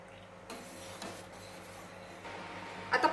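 Milk thickening in a pan while being stirred continuously, soft scraping strokes of a spoon against the pan bottom at a steady pace, fairly quiet with a few louder knocks near the end.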